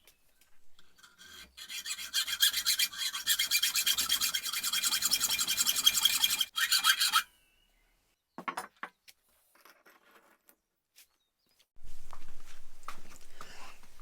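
A steel offcut being cut by hand, a loud steady rasping saw stroke rhythm for about six seconds, then a few isolated scrapes and a renewed rough grinding at the end.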